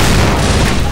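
Grenade blast in the shooter Half-Life 2, a loud, dense burst of broadband noise with a booming low end that fills the moment without a break.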